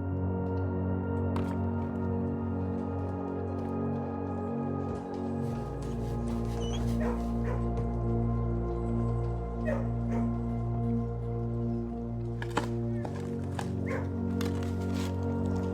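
Dogs in a kennel in the video game Blue Prince bark, yip and whimper in scattered bursts over a steady low game background hum, with no talking.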